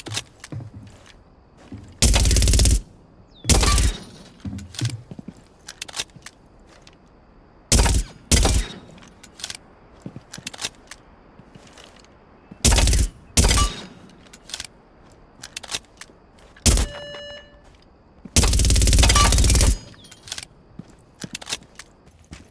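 Automatic weapon fire in Rainbow Six Siege comes in several loud, short controlled bursts separated by quieter gaps with faint footsteps and movement, closing on one longer sustained burst.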